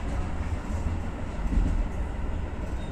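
Keio Line limited express train running between Bubaigawara and Shinjuku, heard from the rear of the train as a steady low rolling rumble of wheels and carriage noise, with no talk.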